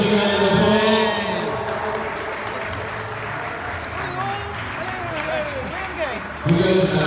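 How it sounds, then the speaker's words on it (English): A crowd claps warmly and continuously to welcome Only Fools and Horses actors at a flat, stageless fan event, the applause swelling at the start and end while people talk over it. "Please give them a round of applause."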